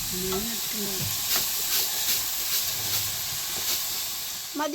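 Banana chips (upperi) frying in hot oil for an Onam feast meal, a steady hiss and sizzle throughout with a few clinks of stirring and a brief voice near the start and end.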